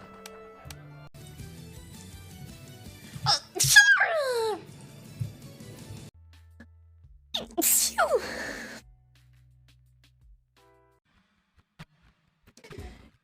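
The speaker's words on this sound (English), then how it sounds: "Is that your way of sneezing?" Two sharp, breathy sneeze bursts land about four seconds apart, each loud and sudden, separated by quiet stretches with faint background sound.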